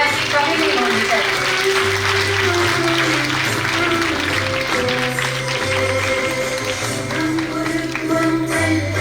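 A felicitation ceremony audience at Raj Bhavan, Dehradun, claps in a dense, continuous wash of applause over a TB-Free India campaign event, loud and sustained with a low hum and tones running beneath.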